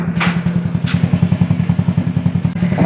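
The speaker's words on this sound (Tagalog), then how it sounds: "Yan ang aking motor." A Motor Star motorcycle running on GTO oil, said to have gone a year without an oil change, idles close by with a rapid, even, thumping pulse and a slight rattle, with no voices.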